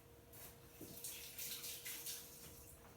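Tap water runs briefly as fingers are wet in a home kitchen while making sourdough bread, a soft, fairly faint splashing stream lasting a couple of seconds with no voices over it.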